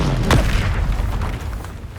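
A Confringo spell explosion in Hogwarts Legacy gives a single sharp, booming blast early on, set against a dense, continuous rumble of game noise.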